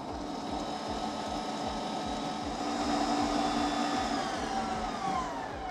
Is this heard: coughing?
no